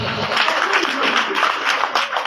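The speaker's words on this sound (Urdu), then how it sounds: "تالیاں تالیاں تالیاں" Applause for prize-winning students at a school competition awards event, a dense, steady burst of crowd clapping that carries on throughout, with voices faintly mixed in.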